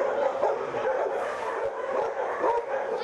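Several dogs at an animal shelter bark, yip and whimper in a continuous, busy chorus that fills the space, with no clear pauses and faint voices mixed underneath.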